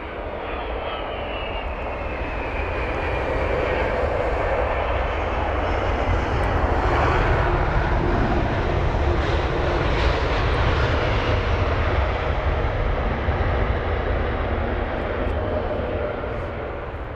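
A DHL A380 freighter arriving from Amsterdam lands at Heathrow. Its engines give a loud, continuous roar and rumble that swells slightly mid-way and holds throughout.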